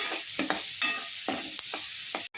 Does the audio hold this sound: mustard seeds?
yes